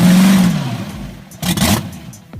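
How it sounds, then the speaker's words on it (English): An old drag racing car's engine revs hard in a short burst, starting with a low throaty tone that fades and then surges into a second loud, rough roar close by. "Judging by the sound of the engine as well, the old car is still able to show youngsters what speed is really like"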